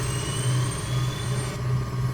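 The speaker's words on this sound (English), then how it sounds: "so we now have both engines running" Twin engines of an EC-135 helicopter running in Flight Simulator 2020, a steady droning hum with constant level and no speech.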